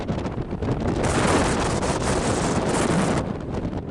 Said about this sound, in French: Le vent est super violent.